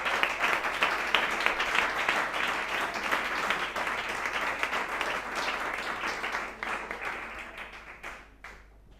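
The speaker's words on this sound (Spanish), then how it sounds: "si quieren aplaudir," A church congregation claps during a sermon, a full round of dense applause that stays strong for several seconds and then thins out and fades toward the end, leaving a few scattered claps.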